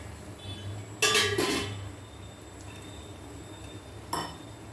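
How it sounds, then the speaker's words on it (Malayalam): Chopped onions for a chicken curry dropped into a pan, two quick bright clattering bursts close together, then a shorter clink a few seconds later, over a quiet kitchen background without speech. "എന്നിട്ട് നമുക്ക് ഇതിനകത്തേക്ക് നമ്മുടെ സവാള അരിഞ്ഞു വെച്ചത് നമുക്ക് ഇട്ട് കൊടുക്കാം"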